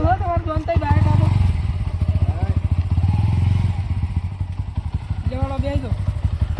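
A motorcycle engine runs nearby with a steady throbbing putter that swells and settles, while people talk over it.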